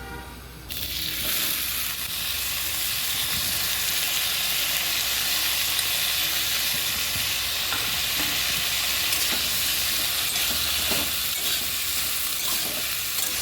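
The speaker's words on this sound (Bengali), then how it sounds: "এই ভাপ দেওয়া মোচাগুলি এবার তেলের মধ্যে দিয়ে দেবো।" Steamed banana flower fries in hot oil in a wok, giving a loud, steady sizzle with crackling that starts abruptly and runs unbroken, close up, with no voices.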